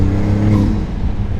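Maserati V6 engine revving hard in sport mode, a loud, steady, close throaty drone with no clear break for a gear change.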